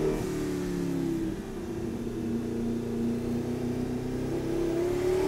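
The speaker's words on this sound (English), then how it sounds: "there's something way more unique about a twin-turbo V8 Audi R8 with the LMS body kit" A twin-turbo V8 Audi R8 with an LMS widebody kit accelerates hard, its engine note rising steadily and loud with a brief dip, heard up close with no talk.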